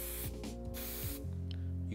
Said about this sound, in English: So holding it about 7 or 8 inches away, just spraying it through the top.